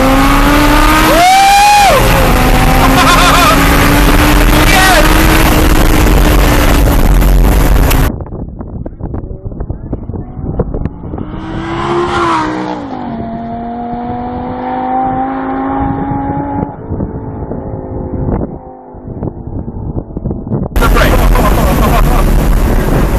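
A powerful Lamborghini engine revs loudly and climbs in pitch, drops to a quieter, steadier drone while accelerating, then roars loudly again.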